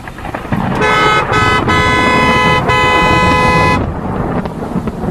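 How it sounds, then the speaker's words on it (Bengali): A loud vehicle horn blares in one long, sustained blast with a few brief breaks, over a rumbling engine. "হর্নের শব্দে সজাগ হয়ে উঠে বসলাম"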